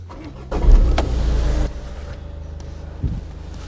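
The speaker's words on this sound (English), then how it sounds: "I'm going to start the car." A VW Golf 7 parked for rear brake work powers up: a brief whirring start and motor hum lasting about a second, then a quieter steady idle with a small thump near the end.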